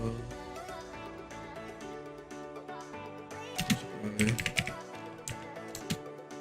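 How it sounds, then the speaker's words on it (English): Someone types a search on a computer keyboard: close, quiet key clicks in a soft tapping rhythm, with a quicker burst of keystrokes near the end. "Let me just type in stocks to buy."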